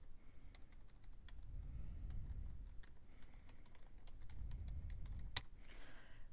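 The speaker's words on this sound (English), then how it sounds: "Once you're done typing," Typing on a computer keyboard while entering a worksheet title in a spreadsheet cell, with soft, rapid, irregular key clicks heard close up against a quiet background and no talking.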